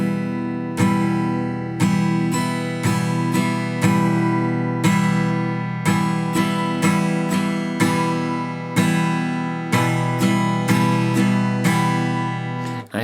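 Acoustic guitar strummed at speed in a beginner down-down-down-up, down-up pattern, a steady rhythmic chord sequence of about thirteen seconds played alone, close and moderately loud.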